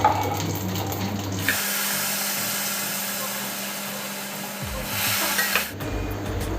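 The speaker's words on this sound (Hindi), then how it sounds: "यहाँ तेल गरम हो गया तो मैं इसमें डालूँगी सबसे पहले हींग" Asafoetida and cumin sizzle in hot oil in a home kitchen pan, a steady close hiss that runs for several seconds and then fades away.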